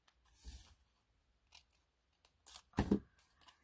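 Scissors snip through paper while a bellyband is being cut, a few short crisp cuts spaced apart, close and fairly quiet, with no talk.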